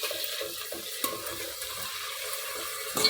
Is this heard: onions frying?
yes